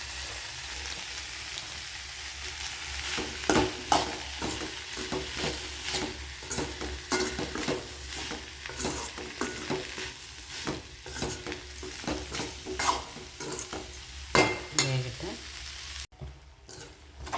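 Dried fish crackles and sizzles as it fries in hot oil in a pan, with scattered sharp pops and a stirring scrape near the end.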